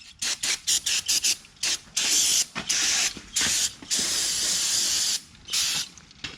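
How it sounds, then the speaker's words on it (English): Brake cleaner hisses onto the body of a 1988–98 GMC/Chevy truck near the rocker panel, first in a series of short, rapid spray bursts and then in a few longer sustained sprays, close and fairly loud. "I want to clean the surface really good, so I just use a little brake clean"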